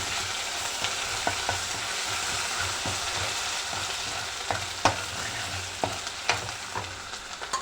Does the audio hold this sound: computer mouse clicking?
no